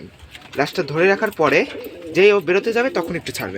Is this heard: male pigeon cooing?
yes